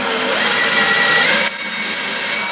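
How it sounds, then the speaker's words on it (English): Steady, continuous power-drill whine boring pilot holes into wood for nightstands, loud and close, with a brief change in pitch partway through. "And I'm just going to drill these holes."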